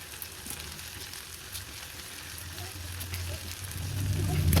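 Torn Kashmiri dried chillies and tomatoes sauté in a pan for a drumstick beef curry, giving a low steady sizzle with light stirring that swells toward the end.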